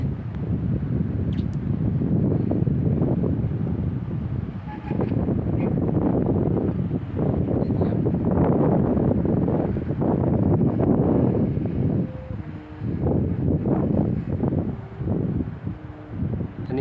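Steady wind buffets the microphone outdoors in the daytime at a kite test of a 140 cm Chula kite from Korat, with gusts that rise and ease as a loud, broad rushing roar, without talk.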